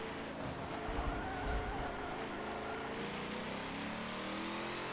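Race car in Forza Motorsport 7 braking hard into a corner, a steady engine drone with tyres squealing and skidding, then the engine note shifting and climbing as it powers out, fairly faint and alone.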